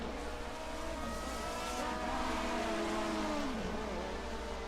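BMW and Ford race cars racing at the Norisring street circuit in 1979, engines howling and sweeping down in pitch as they brake and pass, fairly distant with crowd-like background noise.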